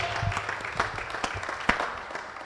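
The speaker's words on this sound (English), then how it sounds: "since you got an applause" An audience at a men's empowerment summit political panel claps and applauds, a fairly soft, scattered patter of hands with a few sharper individual claps standing out, heard from a short distance.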